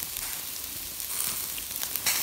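Shashlik sizzles and crackles on a grill in a frosty winter forest, a close, steady frying hiss with small pops throughout.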